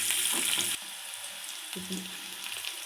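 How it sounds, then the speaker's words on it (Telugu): Onion sizzles in hot oil as tempering for gongura dal, with a steady crackling hiss, louder at first and then settling to a softer, continuous fry. "ఒక ఉల్లిగడ్డ కూడా బాగా వేగనివ్వాలి."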